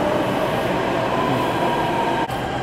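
A Delhi metro train rumbles steadily at a station platform, a loud continuous roar of wheels and motors with no pauses, filling the whole moment without any talk.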